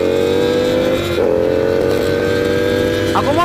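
A Ducati V4 R superbike's engine revs loud and close in a steady high drone, with brief blips as gears drop, continuous throughout with no talk.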